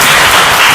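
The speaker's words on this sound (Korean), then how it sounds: "우리 환영한다고, 방문해 주셔서 감사하다고, 환영한다고 박수 한번." Church congregation clapping to welcome a first-time visitor, a bass player, at a Sunday service; a short, dense burst of applause, steady and close, with no talk over it.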